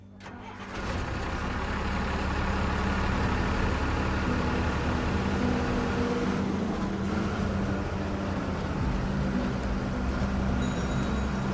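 A bus engine starts and settles into a steady, loud rumbling drone of a vehicle under way, continuous for about ten seconds.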